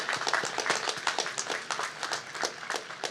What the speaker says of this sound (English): I just want to applaud the faculty and staff who have worked tirelessly to prepare the next generation of leaders